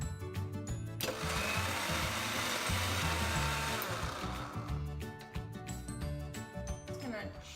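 A blender whirs loudly and steadily as it mixes a peanut butter and vanilla shake with ice, with rattling chunks of ice clinking against the jar throughout.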